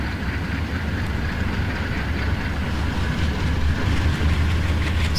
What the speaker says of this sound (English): I'm just operating a North Valley train here.